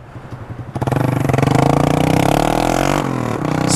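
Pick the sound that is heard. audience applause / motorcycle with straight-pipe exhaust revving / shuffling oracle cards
motorcycle with straight-pipe exhaust revving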